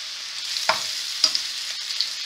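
Corn-flour-coated sweet potato pieces fry in hot oil with a continuous, even sizzle and a couple of soft pops or bumps, with no talking.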